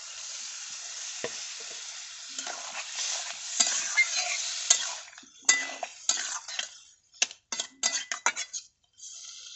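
Water poured into a pan of frying ridge gourd with poppy seed paste sizzles under steady stirring, with scattered clinks of a utensil against the pan growing more frequent toward the end; no talking.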